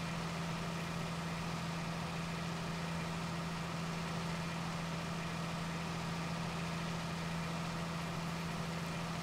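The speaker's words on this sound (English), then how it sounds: "Nothing like a good Perkins engine." A Perkins tractor engine idles in a farming simulation game, a steady low drone with a constant hum that stays even and unbroken throughout, alone with no talk.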